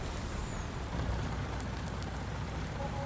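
Steady rain falling in Farming Simulator 19, a soft, even, continuous hiss of drops with no pauses, heard faintly and alone.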